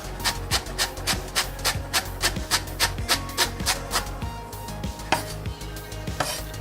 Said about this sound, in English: let's start slicing the leek first